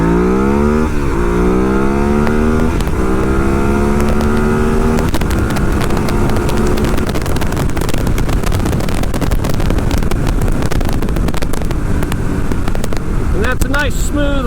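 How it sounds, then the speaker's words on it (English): A 2014 Ducati Hyperstrada accelerates hard up through the gears in sport mode, the engine note climbing and dropping at each shift under loud, constant wind noise from riding. "And that's a nice smooth run up through the gears in sport mode, and you can hear it"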